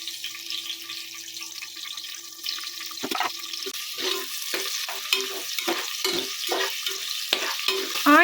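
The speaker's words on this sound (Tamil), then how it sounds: "ஆனியன் வந்து நல்லா ப்ரௌனாக வதங்கணும்." Onions for biryani sautéing in a pan, a soft continuous sizzle followed by repeated scraping strokes of a stirring spoon, close and moderate in level.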